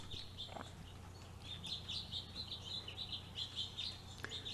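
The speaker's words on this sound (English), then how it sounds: "I could hear all kinds of bird calls in the background" Birds, including goldfinches, chirp and call repeatedly outdoors around a feeder, fairly distant and soft, with a steady low hum underneath.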